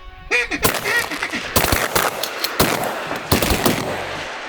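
Shotgun blasts ring out at flying ducks during a hunt, a rapid volley of several loud, sharp shots in quick succession from more than one gun, close by and outdoors.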